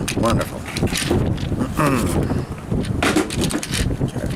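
Gusty wind buffets an outdoor microphone with broad rumbling blasts, mostly under a man's speech, rising and falling across the moment.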